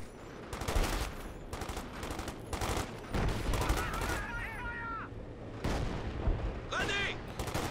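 Machine gun fire during a Company of Heroes 2 match, bursts of rapid shots and explosions under steady spoken commentary.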